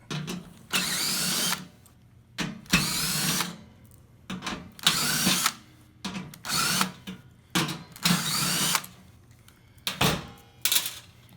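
A power tool whirs in short repeated bursts, about eight of them, backing screws out of a metal cover plate on a Firegear burner, with brief pauses between each run.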